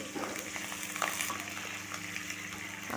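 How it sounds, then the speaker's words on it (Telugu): Curry leaves frying in hot oil with green chillies in a pan, a continuous close sizzle and crackle with occasional stirring clatter and a low background hum. "ఇలా ఫ్రై అయిన తర్వాత కరివేపాకు వేసుకోవాలి"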